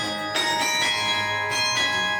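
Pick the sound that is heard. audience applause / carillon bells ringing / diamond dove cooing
carillon bells ringing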